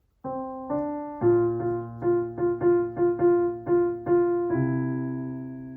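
Piano notes play a short melody, bright plucked tones with a low accompanying C, the final chord ringing out and fading.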